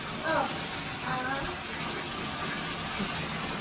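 Water sloshes in a filled bathtub during a bath on a hot 33-degree day, a steady wash of water noise throughout with a couple of faint voices underneath.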